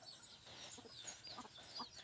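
Faint clucking from hens on a small backyard chicken farm, a few soft calls over two seconds, heard from a distance.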